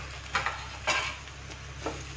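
Puffed rice poha being stirred and mixed in a pan with the flame off, a few scraping, rustling strokes of the spoon against the pan spaced about half a second apart over a soft steady background hum.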